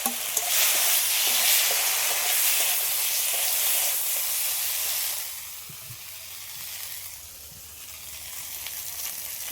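Poppy-mustard paste and lentil dumplings (bori) frying in a pan, a loud steady sizzle and hiss that eases off partway through, with a few soft stirring knocks and no talk.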